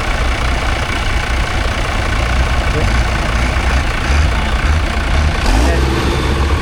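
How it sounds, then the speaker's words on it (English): A turbocharged Fordson Major tractor idles with a steady, loud diesel rumble at an outdoor spring fair, while people talk nearby over the engine. "Another Fordson Major, but that's turbocharged."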